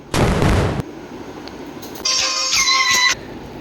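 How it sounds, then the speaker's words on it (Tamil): A train approaches in an Indian bike video game, with a loud burst of noise, then steady rumble and a sustained tonal horn-like blare for about a second, close and prominent. "ஃப்ரெண்ட்ஸ் அந்த ட்ரெயின் கிட்ட வந்துகிட்டே இருக்குது ஃப்ரெண்ட்ஸ்."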